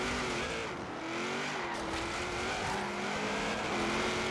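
Subaru BRZ driving hard and sliding through corners in a racing video game, a steady droning engine with wavering pitch and faint tire squeal, continuous and fairly loud.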